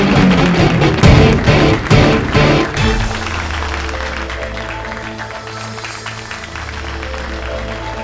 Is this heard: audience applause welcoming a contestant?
yes